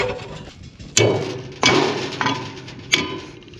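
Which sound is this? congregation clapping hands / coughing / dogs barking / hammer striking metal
hammer striking metal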